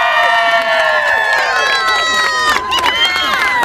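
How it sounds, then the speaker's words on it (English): An outdoor flash mob crowd at a downtown Seattle plaza lets out a loud, close cheer of many whooping and shouting voices, sustained throughout with a brief dip in the middle. "let's hear a big cheer here."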